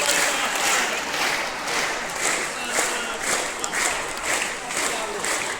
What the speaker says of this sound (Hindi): ये 4 उंगली और ये अंगूठा ऐसे पट्टा पट बजाओ ताली।